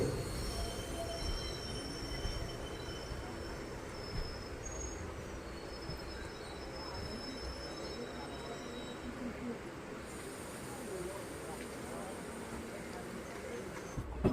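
A passenger train pulls out of Nileshwar railway station in Kerala on a daily run toward Karnataka. The carriages give a steady, close rumble with rhythmic clatter of wheels on track and faint high squeals, and no talk is heard.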